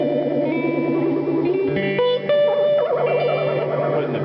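A guitar played through a Diamond Memory Lane pedal with its modulation effect engaged, bright notes wobbling and warbling in a pronounced pitch sway, loud and close with no talking.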